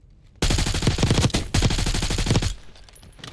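Close, loud automatic gunfire from the video game Call of Duty Black Ops 6 comes in two rapid bursts, the second tailing off into quiet.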